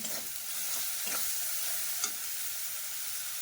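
Taro with a spoonful of red chili powder fries in oil, a low, steady sizzle broken by a few soft scraping stirs, close and unaccompanied by voices.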